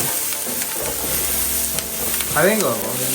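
Onion being tempered in a pan for a Tamil sundal, a close steady sizzle with light stirring, a background hum, and a short voice-like sound near the end.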